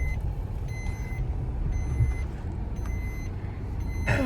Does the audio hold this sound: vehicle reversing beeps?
yes